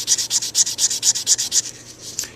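Fine-grit sandpaper, around 320 grit, rubs back and forth on a surface in about ten quick, even, hissing strokes up close, then a few slower passes, with no voice.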